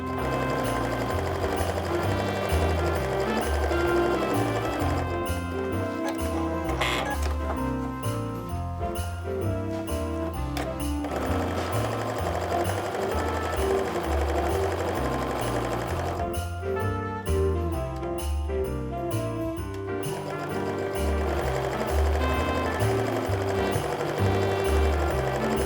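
Sewing machine chain piecing cotton fabric pieces for a snowflake mug rug, a steady mechanical needle rattle running nearly continuously with a few brief pauses between pieces.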